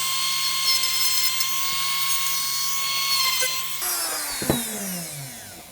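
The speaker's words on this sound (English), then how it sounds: "you've got a couple of lips you just need to take down with the Dremel" A Dremel rotary tool whines steadily as it grinds down the feed lips on a Classic Army airsoft magazine being converted to fit a Magpul mag, the tone shifting midway as the tool bites and slows, with a few sharp clicks near the end.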